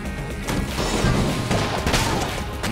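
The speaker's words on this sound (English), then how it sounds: "Explosions." Explosions in the video game Enter the Gungeon, a dense run of loud crashing blasts and thuds packed together with little pause between them.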